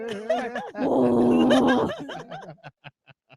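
A human voice imitates a growl, giving a sustained low rumbling vocal growl close to the microphone, with other voices joining in and then short laughing bursts as it ends.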